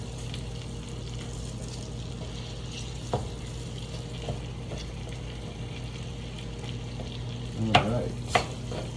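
Food frying in a pan during a keto meal prep session, a steady low sizzle running throughout with a few brief clinks and stirring knocks near the end; a voice speaks briefly.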